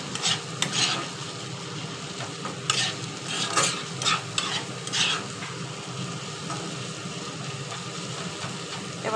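Masala for Bengali aloo dum, with tomato puree, sizzles steadily in hot oil while a spoon stirs and scrapes the pan in intermittent bursts, close and clear with no talking.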